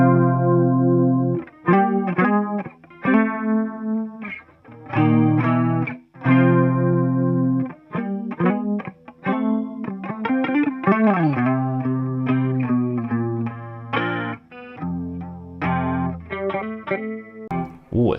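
An electric guitar plays chords and single-note phrases through an MXR Analog Chorus pedal, a shimmering chorus effect, close and clear, with pauses between phrases.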